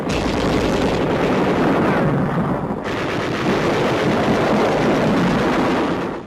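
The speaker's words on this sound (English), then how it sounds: "machine guns cover the withdrawal of 8th Army troops pinned down by enemy fire" Sustained wartime gunfire from machine guns covering the withdrawal of 8th Army troops under enemy fire in Mindanao's Mangshima Valley, a dense loud continuous roar of shots with no speech, briefly thinning near the middle before resuming.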